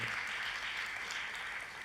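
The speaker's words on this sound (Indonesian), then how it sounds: "tepuk tangannya yang paling meriah buat Tuhan" Congregation applauding during a church sermon, a faint, even wash of clapping heard briefly at a distance.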